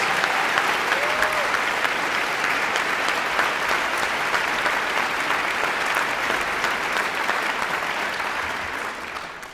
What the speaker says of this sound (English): Please join me in giving a round of applause to Rudy Polk and Christopher Gray